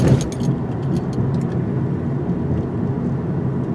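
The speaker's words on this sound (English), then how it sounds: "we're going to take it on some speed bumps and see how it does on impacts" A 2019 Honda Insight hybrid rolling over a speed bump at 25 mph, giving a brief cluster of knocks and rattles at the start, then a steady tire and road rumble.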